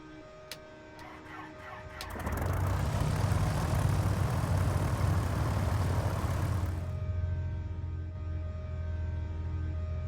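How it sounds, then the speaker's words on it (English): Piper PA-44 Seminole piston engine starting in Microsoft Flight Simulator, the Carenado model: a starter whine and cranking, then a loud steady engine roar that settles into a lower, quieter idle hum. "Engage the starter."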